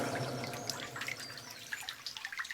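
River water trickles and babbles quietly, with scattered small droplet splashes and light gurgles over a soft steady wash, no voices present.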